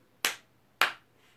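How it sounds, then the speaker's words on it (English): Two crisp hand claps about half a second apart during a preschool storytime practice, close and clear against a quiet room. "Let's practice our claps."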